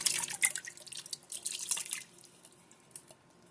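About 2.5 cups of water are poured into a can of chili, starting as a busy run of splashing drips and then thinning to a few scattered faint drops, near and alone.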